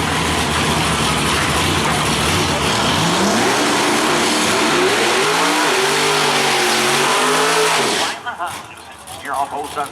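A race car at Maryland International Raceway roars down the drag strip during the Haltech Hail Mary Derby, its loud engine note climbing through several gear changes before cutting off sharply, with an announcer talking over it.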